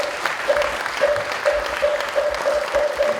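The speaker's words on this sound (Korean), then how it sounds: "큰 박수로 맞이하겠습니다." A Buddhist temple congregation at a regular Dharma service claps to welcome a senior monk, steady applause throughout with a faint repeated tone ringing through it.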